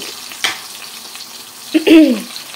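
Cumin seeds and turmeric hit hot oil in a pan for a mango-onion pachadi, giving a soft background fizz with a short burst early and a louder crackling flare near the end, plus a brief voice-like tone.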